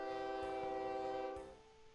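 A monorail locomotive sounds a sustained tonal horn-like drone over rumbling running noise, steady and fairly close before fading a little toward the end, with no voices.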